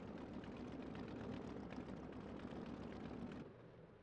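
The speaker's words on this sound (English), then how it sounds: "Just reduce the mixture to kill the engine." A simulated aircraft engine in the Combat Pilot game, shut off by cutting the fuel mixture, holds a steady droning roar that drops sharply and fades near the end.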